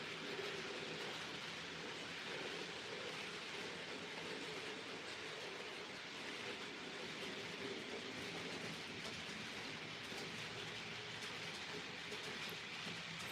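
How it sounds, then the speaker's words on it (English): Steady soft whirring hiss from a TT120 scale model locomotive fitted with a replacement coreless motor in place of its original 3-pole one, running smoothly and continuously at low level throughout. "I've replaced it with one of his coreless motors, and it does run more smoothly."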